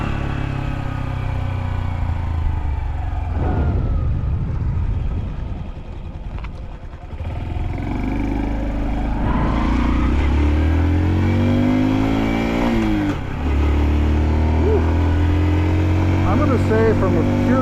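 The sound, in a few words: Honda Dax mini motorcycle riding and shifting gears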